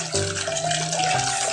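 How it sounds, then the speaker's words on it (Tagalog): Running tap water splashes steadily into a cooking pot being rinsed in a kitchen sink, with a continuous close gush and a faint tonal hum underneath. "Hugasan muna natin itong panlulutuan natin."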